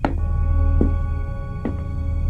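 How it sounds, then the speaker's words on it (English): A steady low electric buzz hums continuously from the magnetic levitators of three hovering sphere drones in an audio drama, with a few soft sharp clicks cutting briefly across the drone. "That buzzing sound you hear is the magnetic levitators of the 3 sphere drones"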